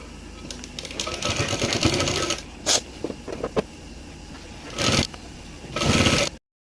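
A sewing machine top-stitches a salwar in quick whirring runs, one long burst and several short ones with pauses and soft handling noises between them, close and clear.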